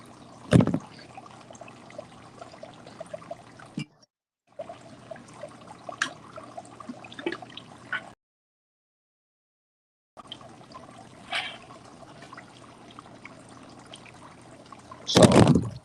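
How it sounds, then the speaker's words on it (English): Water trickling from a fountain, a soft continuous splashing that cuts out twice into silence, with a sharper knock near the start and a louder burst at the end. "that's just the water, the water from the fountain kind of thing"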